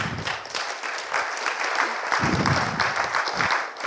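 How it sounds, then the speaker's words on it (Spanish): A church congregation applauds warmly to welcome a sister forward, a steady dense clapping that fills the room for several seconds without pause. "un fuerte aplauso para ella"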